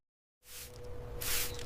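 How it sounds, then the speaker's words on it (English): Water hisses from a spray bottle onto plant leaves in a close, steady burst that swells louder partway through. "I spray water on the leaves."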